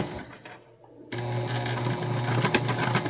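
Sewing machine running a quarter-inch seam around the edges of a small holiday fabric project, starting after a quiet second and then humming steadily and rapidly, close and clear, no talking.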